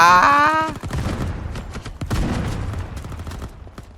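Weapons fire in a free-to-play futuristic shooter video game. A brief tone gives way to rapid bursts of loud, close gunshots that crackle in quick succession, then thin out into scattered shots.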